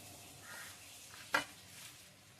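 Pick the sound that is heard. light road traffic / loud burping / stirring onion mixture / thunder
stirring onion mixture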